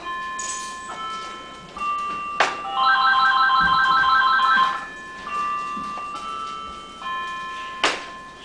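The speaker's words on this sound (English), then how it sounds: "so we're just going to let that ring." A home phone ringing unanswered in a kitchen where beef ribs are being prepared for smoking, its electronic ringtone chirping in repeated bursts of beeping tones, loud and close with no voices.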